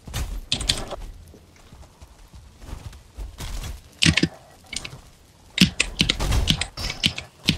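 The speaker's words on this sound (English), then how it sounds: "smashing the keyboard so hard" A computer keyboard is hammered hard during a Valheim PvP tournament match, producing irregular bursts of loud clattering keystrokes with quieter gaps between them.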